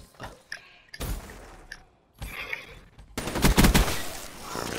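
Bursts of automatic gunfire in the video game Call of Duty Black Ops III, with scattered shots early and then a loud, dense volley toward the end amid game noise.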